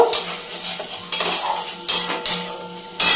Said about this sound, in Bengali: এবার এটাকেও বেশ কিছুক্ষণ আমি একটু নাড়িয়ে নেব।